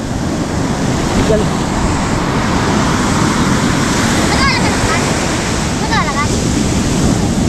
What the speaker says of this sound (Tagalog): Lakas ng alon kuya, no?